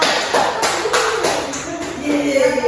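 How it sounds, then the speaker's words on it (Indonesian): Students in a classroom clap for a group that built a house from flat shapes in a maths lesson, scattered irregular claps mixed with shuffling and voices. "Berikan tepuk tangan untuk kelompok rumah."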